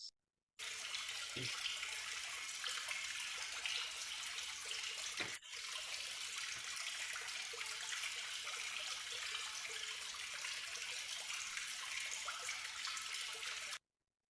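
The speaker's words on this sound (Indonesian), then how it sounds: "Di situ ada air menetes tanpa henti jatuh kepada batu" Water falling without pause onto stone, heard as a continuous steady hiss of running and splashing water, fairly faint and even, with a brief interruption partway through and no talking.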